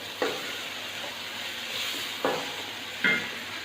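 Okra frying in a masala base in a pan for dhaba-style masala bhindi. A steady close sizzle is broken by three sharp scraping stirs.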